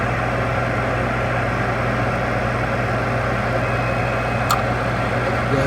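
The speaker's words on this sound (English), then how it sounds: "The blower's operating." A gas furnace blower runs steadily with a broadband whoosh and low hum, constant and close, with a brief faint click near the end.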